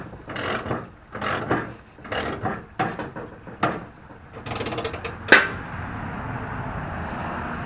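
A jack lowering a 1999 Harley motorcycle, a series of close, rhythmic ratcheting clicks in short bursts, then a sharp metallic clack and a quieter mechanical hum.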